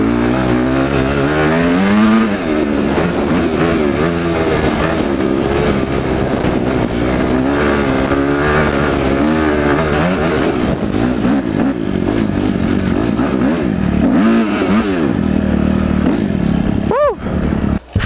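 A motorcycle ridden on the road, its engine loud and near with rising and falling revs through gear changes, wind rush throughout and a person talking over it.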